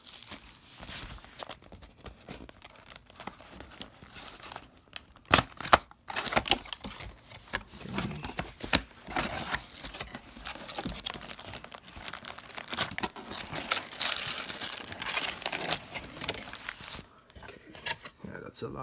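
Pokémon Star Birth booster packs being opened, foil wrappers crinkling and tearing in close, irregular bursts, with a voice talking over the handling throughout.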